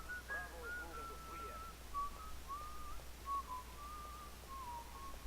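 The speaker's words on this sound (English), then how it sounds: "I hear whistling" A tuneful whistled melody in the video game 007 Blood Stone, a wavering human-style whistle drifting downward over several seconds against a low background hum.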